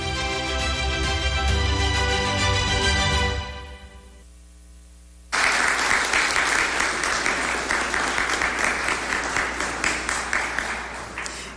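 An audience at an awards ceremony applauds, with music heard first, then a brief lull, then loud sustained clapping from a large crowd.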